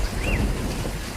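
Heavy rain falls in a Hindi children's cartoon, a dense, steady hiss of downpour with a soft low rumble beneath, continuous and even across the short stretch.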